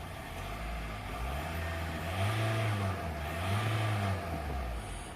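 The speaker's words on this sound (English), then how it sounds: "We'll give it a few revs since the vehicle is warmed up." A warmed-up 2003 Volkswagen Passat B5.5 2.0 TDI diesel engine idles roughly, then revs up twice in smooth rising-and-falling swells, with a gruff, tractor-like tone, heard close.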